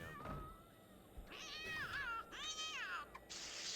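A cat meows repeatedly in the life-simulation game The Sims 2, several drawn-out wavering calls, the last ones rising into a whiny caterwaul, loud against faint background game noise.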